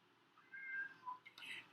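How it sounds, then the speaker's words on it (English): A pet cat gives a faint, short meow, a rising-falling cry heard close but quiet against a soft background hiss, followed by a brief higher squeak. "Okay, Keisha, that's my cat."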